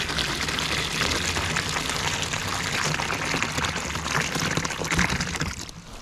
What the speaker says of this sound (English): Just add a little bit of water to our bottom container.